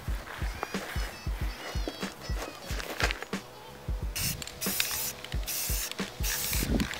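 An aerosol spray paint can applies light coats to car brake calipers and brackets, heard as a run of short hissing bursts that grow longer and louder toward the end, recorded close with some handling clatter.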